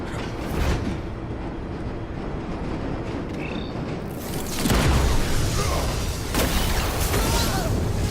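A train in Batman: The Telltale Series, during the showdown with Arkham, rumbles loudly and continuously, swelling midway into a heavy booming roar.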